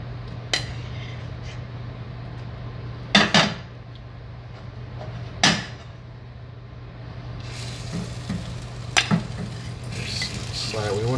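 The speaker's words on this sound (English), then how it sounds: "all my tomatoes, garlic, basil, all that into the pot." Tomatoes, garlic and basil tumble into a metal pot with several sharp clattering knocks of utensils and dishes spread across the clip, over a steady low kitchen hum.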